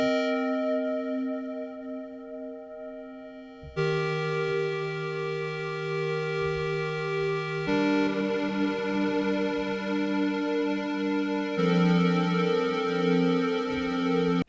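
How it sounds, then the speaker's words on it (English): Square-wave synthesizer tone played as a series of sustained held notes that step to new pitches every few seconds, bright and buzzy with rich harmonics, loud and steady with no voices. "I always thought square waves were pretty useful as well."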